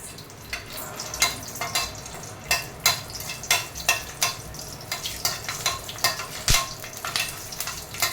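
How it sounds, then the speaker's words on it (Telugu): Green chilies fry in a hot pan for paneer kofta curry, giving a steady close sizzle broken by repeated sharp crackles and pops from stirring, with no talking. "పచ్చిమిరపకాయలు కూడా వేయించుకోండి"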